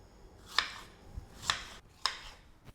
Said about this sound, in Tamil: ஸ்ட்ராபெரியை வாஷ் பண்ணி எடுத்தாச்சு, வாங்க கட் பண்ணலாம்.